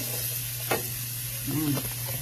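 Onion frying in a pan for spaghetti sauce, a constant hissing sizzle under a steady low hum, with a brief clatter of the pan and a short stir near the end.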